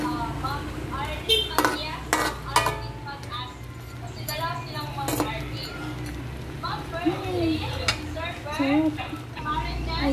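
A utensil stirs a cooked shrimp dish in a pot, giving intermittent scrapes and clinks against the metal while people talk over it.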